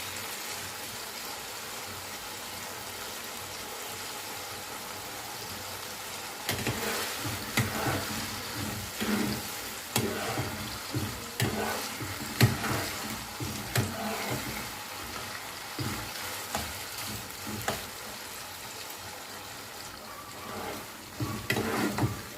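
Chicken mince sizzling in a pan over medium heat for restaurant-style chicken fried rice. A quieter sizzle for the first few seconds, then louder, busier frying with scraping and stirring strokes throughout, no talking.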